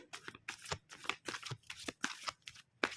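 Tarot cards shuffled and drawn from the deck, a quick run of crisp riffling flicks and snaps in an uneven rhythm, close and moderately loud, with no talking.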